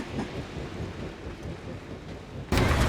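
Thunder rumbles over steady rain in Marvel's Guardians of the Galaxy video game, a continuous low roar with a sudden louder, brighter surge of downpour near the end.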